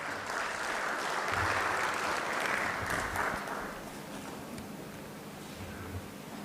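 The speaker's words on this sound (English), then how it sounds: "Let's give him a round of applause." An audience at a geopolitics conference in Kampala gives a round of applause: full, continuous clapping from a large hall that peaks early, then thins and fades toward the close.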